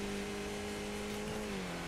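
Race car engine held at full throttle in the iRacing sim, a steady sustained drone with a constant pitch that dips slightly near the end, loud and close with no talk over it.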